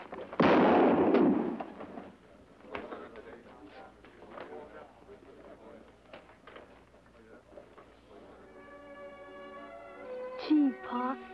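Gunfire in an old western radio drama, a loud blast at the start followed by scattered smaller bangs and a rising whistle-like tone, with voices speaking between them.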